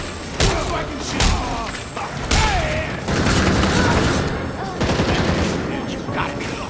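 Bursts of gunfire from the video game Gotham Knights crack out several times over a dense combat soundscape, with speech-like game audio mixed in.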